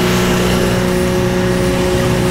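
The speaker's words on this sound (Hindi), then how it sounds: "ट्रक है यार।" Truck engine on a narrow Himalayan mountain road in Himachal, a loud steady mid-range drone with strong tonal hum, continuous and close throughout.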